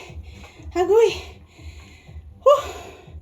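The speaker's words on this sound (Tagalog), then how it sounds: "Hinihingal po ako" A person pants heavily in steady rhythmic breaths after exercising and dancing while carrying a heavy puppy, with two louder gasping vocal bursts rising over the breathing.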